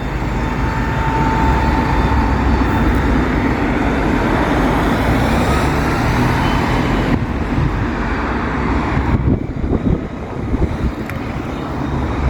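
A city bus pulls around the corner at a busy bus terminal in northeast England, its steady engine rumble blending with dense, continuous roadway traffic noise nearby, no voices.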